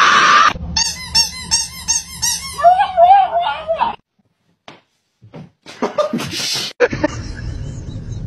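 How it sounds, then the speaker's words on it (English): A rapid series of high squeaks repeats in a quick rhythm, then stops; brief laughs and scattered noises follow after a short silence. "You like squeaky toys?"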